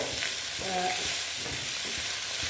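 Fish fat fries in hot oil with a dense, continuous sizzle and crackle, close and fairly loud throughout, with faint clinks of stirring and no voices.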